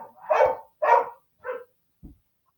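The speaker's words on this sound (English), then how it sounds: "That is my dog that just came down barking her ass off like normal." A dog barks loudly three times in close succession, followed by a short low woof, with silence between the barks and no talk.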